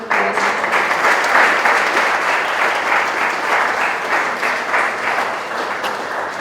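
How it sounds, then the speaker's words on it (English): An audience at the 2025 Inlaks Fine Art Awards ceremony applauds in a steady, dense wash of clapping that holds strongly throughout, with no speech. "Just a round of applause."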